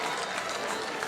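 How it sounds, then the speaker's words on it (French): A crowd applauding and cheering at the red-carpet steps of the Cannes Film Festival, dense and continuous clapping mixed with cheering, loud and steady throughout. "Et tout le monde qui applaudit cette performance"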